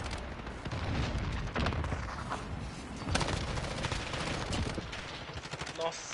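Dense gunfire in Call of Duty Modern Warfare Season 2, with rapid automatic bursts and booming shots crackling nearly nonstop and close up across the whole stretch.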